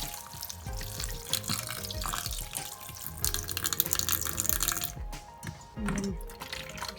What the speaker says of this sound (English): You just run the water from the top